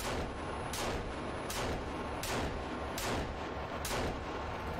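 Pistol shots in the video game Sons of the Forest, a regular series of about six loud, sharp bangs spaced under a second apart over constant dense game noise.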